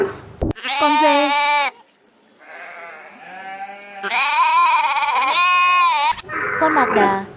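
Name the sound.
goat bleating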